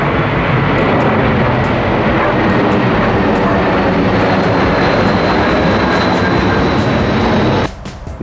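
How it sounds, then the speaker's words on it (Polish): A fixed-wing airplane on its route near Gdańsk Rębiechowo airport passes overhead above a pine forest. It makes a loud, steady roar that fills almost the whole clip, then cuts off abruptly near the end. "nad nami przelatuje samolot, bo jesteśmy w pobliżu Rębiechowa"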